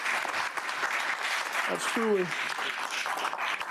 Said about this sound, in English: Ladies and gentlemen, one more round of applause.